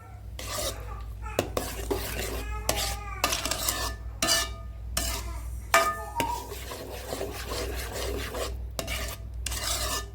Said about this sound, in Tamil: நெய் சேர்த்து சுண்ட வரைக்கும் கிளறிக்கலாம்.